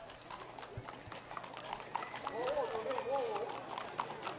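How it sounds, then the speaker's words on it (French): Hooves of Canadian horses clip-clop steadily along a parade route in Sainte-Hélène-de-Chester, with a brief whinny partway through, under crowd noise and an announcer talking. "il nous montre en même temps ces magnifiques chevaux canadiens, Mirka et Shana"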